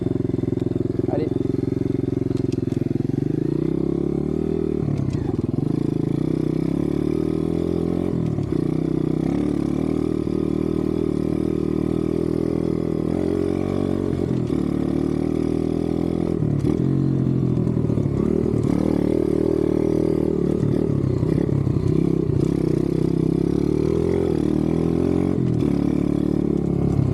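A dirt bike engine with a carburetor needing adjustment revs repeatedly nearby, rising and falling in loud throaty bursts over a rough idle.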